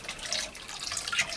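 Hot water with dissolved laundry detergent powder, about half a cup, poured from a cup into a mix for treating wild bird feathers, giving a steady, fairly faint liquid splash and trickle with no talking.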